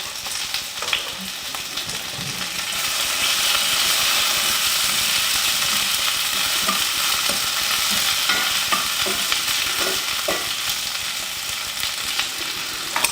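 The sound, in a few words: garlic sizzling as it is thrown into the pan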